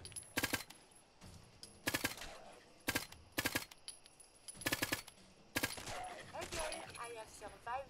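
Firefight in Fallout 4: loud, separate bursts of gunfire crack out in an irregular rhythm, the gaps filled with quieter rumble and someone speaking briefly near the end.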